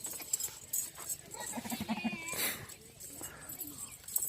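A large breeding goat on a farm bleats amid other livestock noise, with voices talking nearby throughout.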